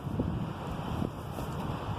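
Strong wind at Worsbrough Reservoir buffets the microphone in a continuous rough rumble, with gusty swells rising and falling over a couple of seconds.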